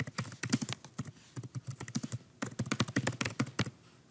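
Quick, close typing on a computer keyboard, with dense bursts of crisp key taps broken by short pauses, steady and alone without any speech.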